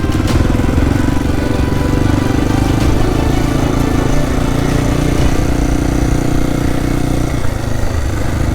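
An enduro motorcycle is ridden hard in third gear on a dirt track in Cambodia, its engine revving loud and close in a sustained buzzing drone. The pitch shifts slightly as the throttle varies, with wind and bumps mixed in.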